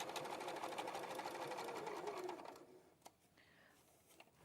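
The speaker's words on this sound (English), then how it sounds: "Now I'm going to do a couple of stitches forward, couple of stitches back just to secure it." A domestic sewing machine runs steadily, stitching fabric forward and back to secure a seam for a Miranda dress, with a fast close whirring hum that stops midway, leaving quiet room tone with a few light clicks.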